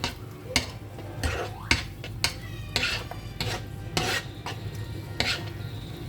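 Eggs and sauce stirred in a pan on the stove for a pasta sauce, with repeated scraping and clinking strokes of a utensil against the pan over a steady low sizzle, close and moderately loud.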